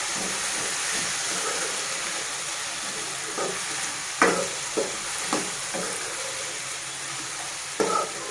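Curry leaves fry in a pan during poha cooking, giving a constant close sizzle broken by a few sharp pops and spits, with no voices.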